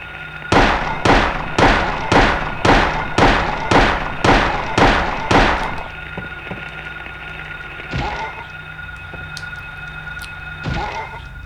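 Gunshots in the video game Silent Hill, a rapid, evenly spaced series of about ten loud, sharp blasts, followed by a couple of isolated duller thumps over a low background hum.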